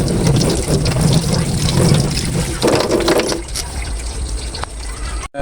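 Cold water pours over freshly boiled pasta in a steady, loud gushing stream that softens toward the end and stops abruptly.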